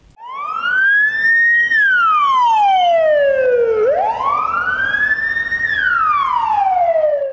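Emergency vehicle sirens, from ambulance, fire, heating network, gas service and police crews responding to a drill call in Ivanteevka, wail loud and close in two long rising-and-falling sweeps over road noise.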